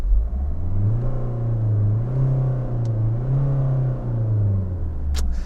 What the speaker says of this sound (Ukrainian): Почуємо, чи буде якийсь у нас супервихлоп чутно.